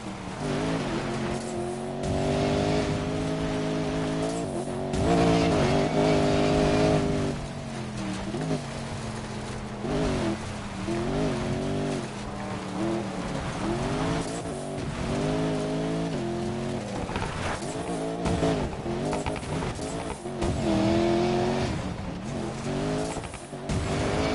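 Porsche off-road racing car engines in Need for Speed Payback whine and rev continuously, pitch rising and falling through gear changes, with occasional tire squeals, loud and close.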